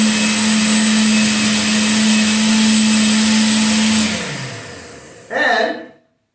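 A blender whirs loudly at steady speed while blending homemade almond milk with cinnamon, then winds down, followed by a brief second burst before stopping.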